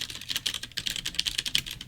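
Rapid typing on a DAS mechanical keyboard with a metal faceplate, crisp close key clicks in a fast uneven rhythm, heard alone without talk.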